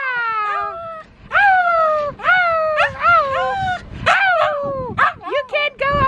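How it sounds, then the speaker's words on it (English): A dog close by gives a run of high, wavering whines and yelping howls in rapid bursts, almost like singing, with brief gaps between them. "let me show you my crazy dog, because our crazy dog has been singing all day long today"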